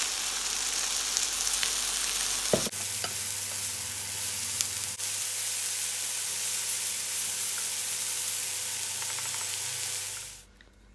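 Kimchi stir-fries in a hot pan with a steady, loud sizzle and hiss, broken by a couple of sharp clicks from stirring, before the sound cuts off abruptly at the end.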